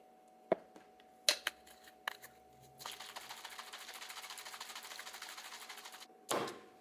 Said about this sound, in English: now I can use this to shake up our prolessa shot